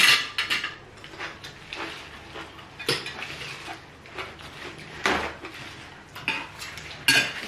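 Irregular pounding of peanuts with shrimp paste in a mortar, sharp knocks and clatters every second or so, fairly close and loud.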